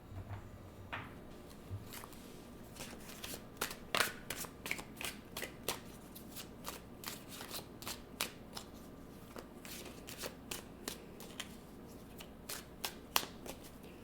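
Tarot cards handled and drawn during a card reading, with soft riffling, snapping and sliding card sounds in quick irregular bursts, close but quiet, and no talking.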